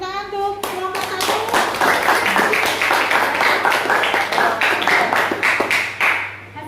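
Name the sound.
class clapping for group 1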